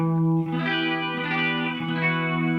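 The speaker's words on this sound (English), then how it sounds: "And you just get kind of a chorusy sound." A sustained electric guitar chord with a shimmering, wavering chorus effect, played alone, bright and full.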